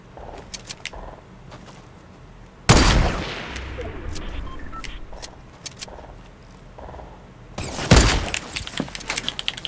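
Fortnite gunfight with sharp, loud gunshots: one heavy blast, a stretch of lighter scattered shots and clicks, then another loud burst of fire near the end.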